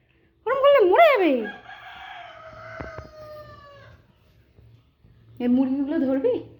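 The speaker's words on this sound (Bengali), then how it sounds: "এই মুরগিগুলো ধরবি?" A rooster crows loudly and close by in a long wavering call, followed by a quieter drawn-out tone, then a second crow begins after a short pause; chickens are nearby and faint talk sits underneath.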